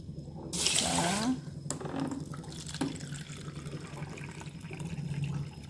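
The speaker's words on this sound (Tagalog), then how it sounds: "Ayan, maglagay na tayo ng water." Cold water splashes from a tap or container onto brown basmati rice in a pot, a loud gushing pour lasting about a second, followed by quieter trickles and faint kitchen clatter.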